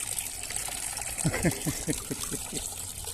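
Water trickling and splashing steadily from a chafariz stone fountain in central Portugal, faint and close, with someone talking over the running water.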